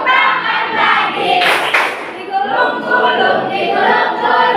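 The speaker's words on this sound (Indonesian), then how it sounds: "Bertepuk tangan. buka tutup, Tepuk tangan lagi." Children clapping their hands together in a group, loud and close, with busy overlapping claps and some voices and chatter mixed in throughout.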